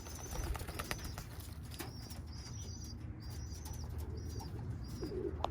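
Birmingham Roller pigeons cooing softly and flapping their wings, with repeated short coos and brief wingbeat bursts over a steady outdoor background.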